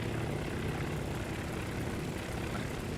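Aircraft taking off in the naval game Task Force Admiral give a steady, dense propeller-engine drone that holds at an even level throughout, with no talk over it.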